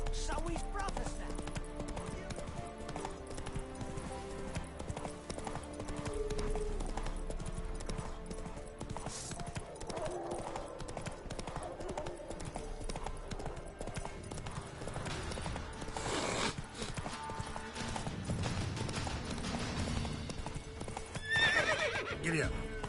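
A horse in a video game galloping with rapid clip-clop hooves and letting out whinnies, the game's music and effects mixed underneath, and a person talking over much of it.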